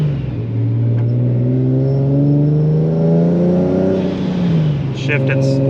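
A supercharged Nissan 370Z pulls hard in first gear toward 4000 rpm, its engine note rising steadily as a loud, close drone that dips briefly near the shift point.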